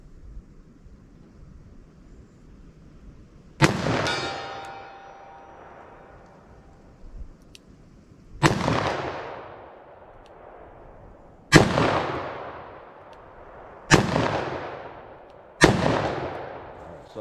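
.357 and .44 Magnum revolvers fired at a range with Remington HTP ammunition, five loud, sharp shots spaced a few seconds apart, each booming and then decaying into echo.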